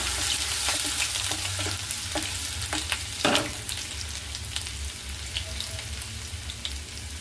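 Chopped ginger and garlic frying in hot oil for veg fried rice, a fairly quiet, even sizzle broken by stirring clicks and one louder scrape, with no speech.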